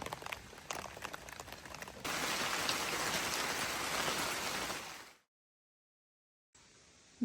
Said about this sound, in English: here comes more rain